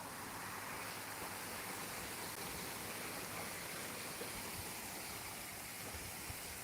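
Water flowing across an old road ford on an evening walk, a soft, steady broadband rush heard from a distance, faint and unbroken with no voices.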